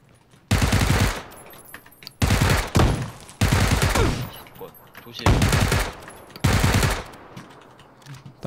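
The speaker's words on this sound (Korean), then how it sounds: "권총소리" Bursts of gunfire in the PUBG battle game arrive in four or five loud, separate volleys of rapid shots, with short quiet gaps between them.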